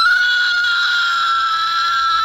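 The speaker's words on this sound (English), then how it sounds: "The progressive scream, you hear it more and more these days." A recorded piercing scream played back on a radio show, one sustained high shrill wail holding steady for over two seconds with nothing else beneath it.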